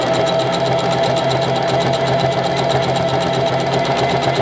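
Small home sewing machine stitching fabric, a close, steady fast mechanical whir and rapid needle clatter running unbroken throughout, no talk.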